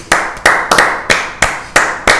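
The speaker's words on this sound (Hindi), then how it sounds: "तालियां लक्षित के लिए" A single person claps slowly and steadily for Lakshit during a cricket livestream, seven sharp, close hand claps spaced at an even rhythm with no other sound between them.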